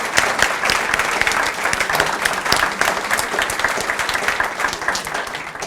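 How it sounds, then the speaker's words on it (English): A crowd applauds Hall of Fame inductees at a 2016 ceremony, loud and continuous clapping that holds steady throughout with no talking over it. "can I have another round of applause for these most deserving Hall of Fame inductees?"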